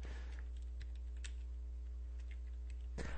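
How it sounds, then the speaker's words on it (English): Light computer keyboard typing, a scattering of soft key taps over a steady low electrical hum, ending with a slightly louder burst. "I can just type that in"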